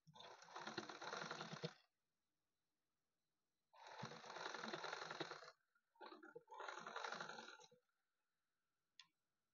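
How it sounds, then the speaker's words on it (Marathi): Sewing machine stitching a folded piece of fabric diagonally, three close, steady whirring runs separated by pauses, with a faint click at the end and no talk. "फोल्ड केल्याच्या नंतर आपल्याला अशी तिरकसपणे शिलाई काढून घ्यायची आहे."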